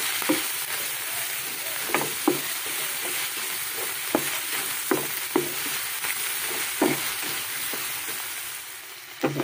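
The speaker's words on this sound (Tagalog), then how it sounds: "Gusahin lang natin mabuti ang ating giniling." Ground meat sautéing with salt in a pan: a steady loud sizzle broken by repeated scraping strokes of a spatula, with no talking.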